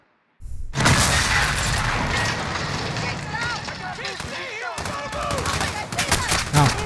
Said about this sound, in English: Maybe it's time to use the grenade launcher.